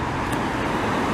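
Porsche car passing on a city road in Montreal, a brief close whoosh of engine and tyre noise over traffic.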